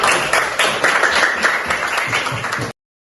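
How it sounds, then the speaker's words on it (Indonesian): A classroom group of students applauds together, a dense burst of clapping that fills the room for a few seconds and then cuts off abruptly. "berikan tepuk tangan kepada kelompok"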